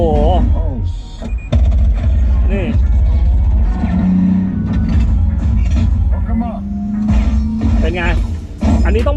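A car engine roars and revs loudly through a film soundtrack, mixed with music, sound effects and brief voices, played on an aftermarket Android screen system in a Toyota Alphard or Vellfire.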